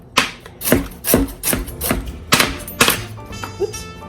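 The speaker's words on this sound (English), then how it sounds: "I'm just going to cube my potato" A knife cubing a potato on a cutting board, about nine sharp, evenly spaced chops that thud against the board, close and clear.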